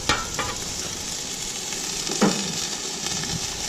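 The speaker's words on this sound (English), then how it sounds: "Add a little more butter. Not too much. Recover. Sizzle." Potatoes fry in butter on a Camp Chef FTG600 flat-top griddle alongside flank steak, a close, continuous sizzle with a few sharper spatters and scraping stirs over an even hiss, no talk.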